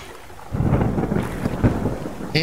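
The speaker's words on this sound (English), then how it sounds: "persistently raining" Rain falls persistently in the survival game Subsistence, a low rumbling wash of heavy downpour with thunder-like swells building after a quiet start, loud and close with no talking.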